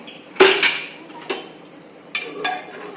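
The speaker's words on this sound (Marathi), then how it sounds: "आपण कुकर ओपन करून पाहूया." Sharp metallic clanks and rattles of a pressure cooker lid being handled and lifted after cooking mutton biryani, a few distinct knocks spaced over a few seconds, close up.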